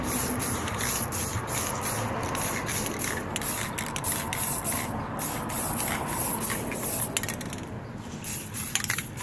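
An aerosol or spray gun hisses in steady bursts while paint goes onto a Type R lip, the pressure sounding weak, with brief pauses and faint handling noises between passes.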